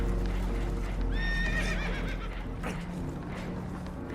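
A spooked horse in a video game whinnies loudly in a rising, wavering call, with hoof clatter and a steady rumbling background underneath.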